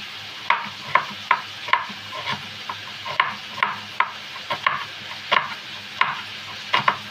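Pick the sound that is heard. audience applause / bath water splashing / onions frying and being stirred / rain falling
onions frying and being stirred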